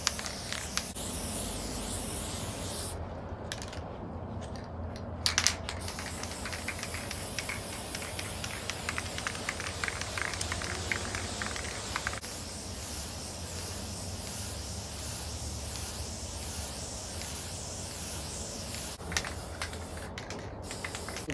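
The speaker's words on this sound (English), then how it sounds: "Get some cheap little Walmart spray paint." A cheap aerosol spray paint can sprays a TV tray table outdoors, a close, steady hiss broken by short pauses between passes, with wind noise underneath.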